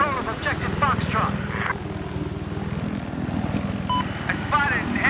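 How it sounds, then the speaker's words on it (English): An enemy helicopter in a military shooter video game beats steadily with a rapid rotor chop throughout, while game voices speak over it. "I spotted an enemy helicopter."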